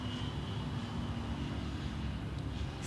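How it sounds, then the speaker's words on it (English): Air Nostrum CRJ 1000 airliner at Zurich Airport, a steady, fairly distant jet engine roar that holds evenly throughout with a faint high whine, with no talk over it. "Next we have the Air Nostrum CRJ 1000 from"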